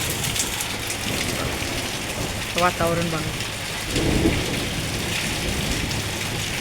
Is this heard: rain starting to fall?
yes